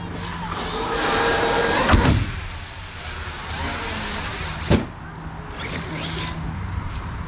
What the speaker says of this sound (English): Here comes Callum's turn to drive the XMaxx